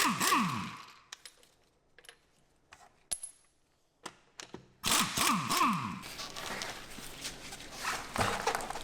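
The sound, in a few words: removing wheel hub cap on Audi Q7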